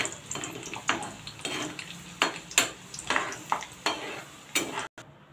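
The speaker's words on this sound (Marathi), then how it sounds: "यात मी काजू टाकलेत, ते पण थोडेसे फ्राय करून घेते।" Cashews fry in a pan for a chicken biryani, with a soft sizzle running underneath while a spoon scrapes and clatters against the metal in a rough, irregular rhythm of repeated stirring strokes.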